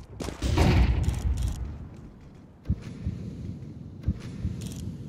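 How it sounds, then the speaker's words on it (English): A flashbang grenade goes off on the Dust 2 map in Counter-Strike, a loud blast with ringing that trails away, followed by two sharper gunfire-like cracks. "Deploying flashbang."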